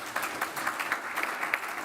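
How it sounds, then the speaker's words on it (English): Short burst of applause at an academic presentation day, steady dense clapping from a modest audience at moderate level, continuing alone for under two seconds. "second round of applause maybe"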